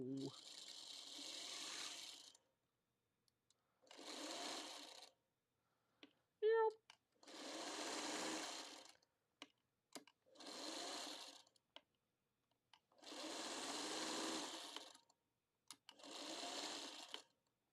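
Sewing machine stitching a quilt made from Banyan batik fabrics, running in several loud bursts of steady whirring a second or two long, separated by short pauses and small clicks.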